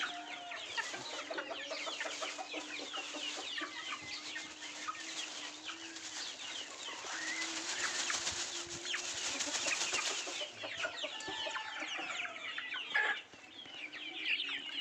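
Gavran country chickens, a flock of about fifty birds, clucking and chattering continuously up close, with scattered higher calls and cheeps layered over a low steady background.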